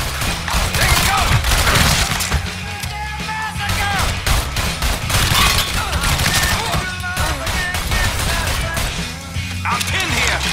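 Gunfire in Mafia III, a loud, dense fusillade of rapid shots and mechanical clatter, continuous over the whole span with faint voices beneath.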